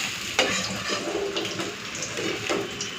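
Hilsa fish pieces frying in hot oil, a steady sizzle throughout with a few louder crackling bursts, close and continuous with no talking.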